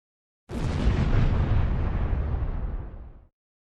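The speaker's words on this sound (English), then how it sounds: "They're shaking fists at each other and lighting up those cannons," A cannon fires in a single loud boom that swells into a broad, rumbling roar lasting about three seconds before cutting off, alone, with no voices.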